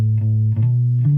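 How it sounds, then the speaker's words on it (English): Distorted electric guitar through a Boss RC-600 core metal preamp: a thick, sustained high-gain chord or note held loud and steady, shifting pitch slightly near the end. "Core metal."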